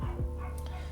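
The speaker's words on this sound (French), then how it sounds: "Mon chien qui aboie comme d'habitude." A pet dog gives a couple of quick, close barks at the very start, then fades into a low hum with faint household noise.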